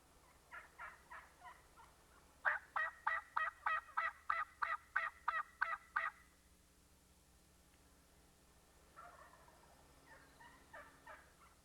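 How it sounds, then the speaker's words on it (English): Several wild turkey toms gobble in open country, a steady run of loud, rolling gobbles in quick succession, followed by a pause and then fainter, more distant gobbles near the end. "With these gobblers all hand up, Steve decides to wait until midday to try to isolate a lone tom"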